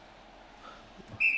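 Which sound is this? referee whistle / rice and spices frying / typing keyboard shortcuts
referee whistle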